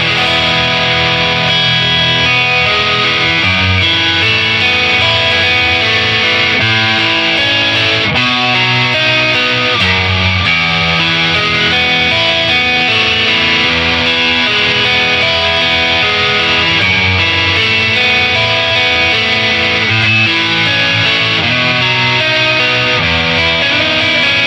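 A Stratocaster electric guitar plays a song through light distortion, with loud, continuous, ringing chords and notes and no voices.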